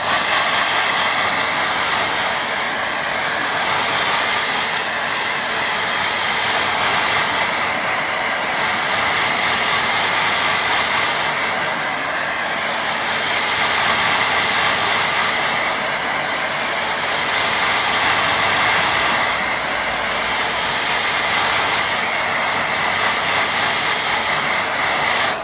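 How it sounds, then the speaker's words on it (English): A hair dryer blows steadily over a watercolour painting, a continuous close airy whoosh and hiss that stays even in strength for the whole span, with no voices. "I'm going to have a quick blast with dryer."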